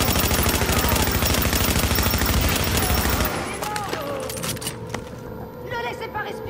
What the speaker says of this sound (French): Je tire sur la cible.